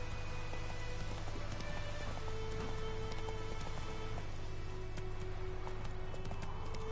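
A horse's hooves clip-clop steadily in Witcher 3, a continuous rhythmic trot under rain and ambient game sound, moderately quiet with a faint tonal hum throughout.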